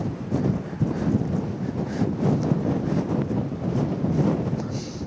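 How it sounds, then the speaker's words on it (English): Strong wind buffets the microphone on a mountainside near Mount Arthur in Kahurangi National Park, a steady, dense roar with small gusty swells throughout and no voices. "It's still going to be windy up here though."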